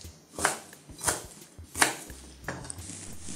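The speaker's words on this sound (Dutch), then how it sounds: "Deze snijden we grof." A knife coarsely chops a vegetable on a board for sour shrimp soup, with four distinct, evenly spaced thuds and a fainter fifth cut.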